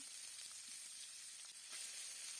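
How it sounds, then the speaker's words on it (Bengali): Potatoes frying in a pan for aloo bhaji, a steady soft sizzle with faint crackles, heard up close and alone. "এখন হচ্ছে আলু ভাজিটা করব"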